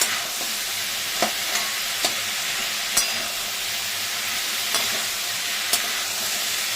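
A spoon stirs ash gourd curry with lentils in a pan over a steady sizzling hiss, with a handful of distinct scraping knocks against the pan spaced through the clip.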